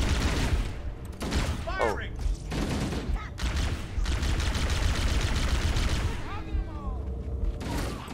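Rapid bursts of gunfire and mechanical weapon noise from Halo: Combat Evolved, a Covenant plasma rifle among the shots, loud and dense throughout, with a brief spoken exclamation.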